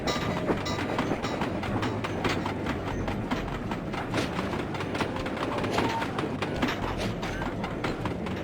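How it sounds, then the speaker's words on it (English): A train rolling on rails in a video game, with continuous rumbling and a steady clickety-clack rhythm of wheels over track joints, loud and close throughout. "Can we get on the train?"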